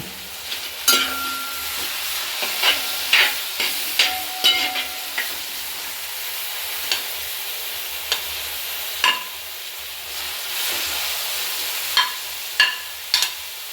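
Green chili, curry leaves and ginger go into beef frying in a pan, with a soft, steady sizzle punctuated by a dozen or so sharp spatula scrapes and clanks at irregular intervals.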